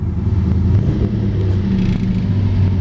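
A 1956 Chevy Bel Air two-door hardtop resto-mod with its engine running, a steady low rumble holding near and fairly loud for the whole stretch, with slight swells as it idles or pulls away.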